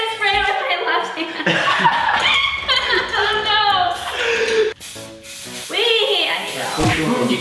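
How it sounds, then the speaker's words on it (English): Aerosol spray paint hisses in repeated bursts as it is sprayed for hydro dipping Nike Air Force 1 sneakers, mixed with people talking and laughing nearby. "You kind of have to spray one color and then spray the other."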